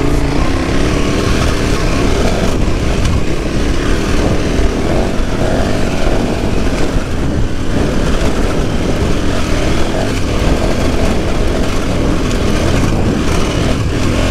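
A trail motorcycle accelerates, its engine roaring loud and close in a continuous, dense drone mixed with heavy wind rush.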